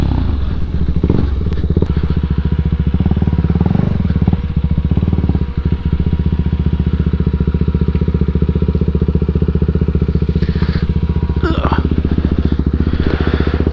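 A motorbike engine idles close by with a steady, throbbing putter and light mechanical clatter, holding an even rhythm throughout with a couple of faint knocks near the end.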